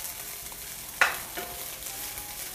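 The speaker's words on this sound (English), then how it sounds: "what we are going to do now is let this fry up a little" Salt fish fries in a pan with a steady close sizzle, broken by one sharp scrape or stir about a second in and a softer one shortly after.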